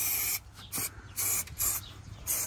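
Short bursts of spray adhesive hiss out in four or five separate blasts while sheet vinyl flooring is laid around a toilet in a bathroom. The spraying sounds close and fairly loud, with brief pauses between blasts and no talking.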